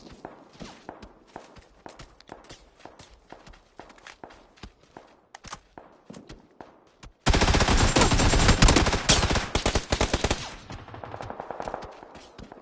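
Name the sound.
gunfire in a video game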